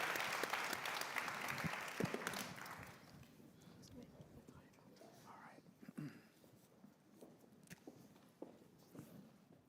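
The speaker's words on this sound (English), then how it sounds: "Please, just let's give the panel a final applause" Applause from the audience at the end of a caregiving foundation's national convening, loud at first and fading over a few seconds into scattered claps, footsteps and quiet murmuring.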